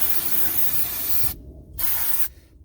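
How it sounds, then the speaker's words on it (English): Brake cleaner sprayed onto the rear brake caliper piston of a 2004 Acura TL: two close, loud aerosol hisses, the first long and the second shorter after a brief gap. "We're gonna spray the piston."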